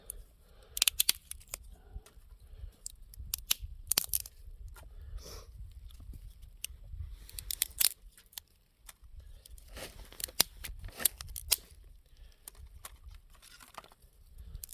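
Dry fallen pine branches snapped and cracked by hand outdoors, giving a string of sharp, close crackling snaps and crunches spread irregularly through the stretch, with softer rustling between breaks.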